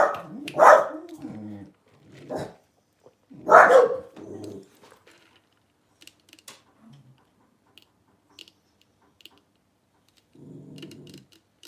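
Two sharp barks from a nearby dog early on, followed by quieter scattered noises and a faint low sound near the end.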